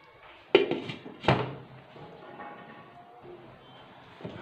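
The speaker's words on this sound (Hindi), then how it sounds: "इसको तकरीबन हम 5 से 10 मिनट के लिए ढक्कन बंद करके पकाएंगे" A lid is set on a cooking pot of black chickpeas with two close, solid clunks a moment apart, followed by quiet kitchen background.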